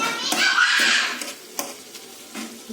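Tomatoes cooked soft in a pan for a drumstick tomato curry being stirred and mashed: a close scraping and sizzling swirl, then a few faint utensil knocks against the pan.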